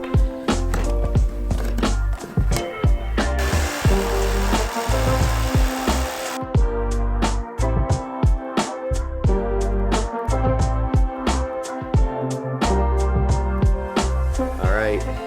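A cheap jigsaw cuts a hole through the roof of a Chevy Express van conversion for a roof fan. Loud, close and continuous, it has a rapid rhythmic chatter and a harsh buzzing whine.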